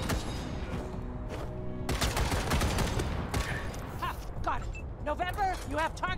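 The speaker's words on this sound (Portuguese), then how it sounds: "E quando eles atiram na gente, eles erram os tiros, pelo jeito." Bursts of rapid gunfire and mechanical clatter in Wasteland 3, with talking over the shots and a few higher synthetic tones toward the end.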